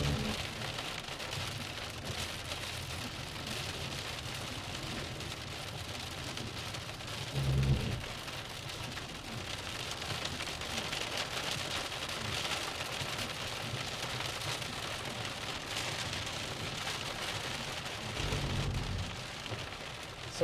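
Steady rain hisses down during a thunderstorm in Iowa or Missouri, a continuous wash of drops on surfaces with a couple of faint low rumbles, heard from inside a vehicle without talk.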